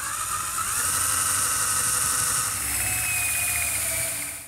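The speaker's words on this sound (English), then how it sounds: "I'm using a hole saw with the drill" A power drill fitted with a hole saw cutting into a wooden door for a deadbolt installation, with a steady high-pitched grinding whine that holds close and loud for the full length.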